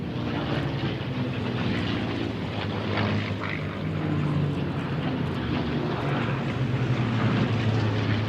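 A P-40 propeller warplane flying at the Duxford airshow, a steady broad engine drone running loud and continuous throughout with no talk over it.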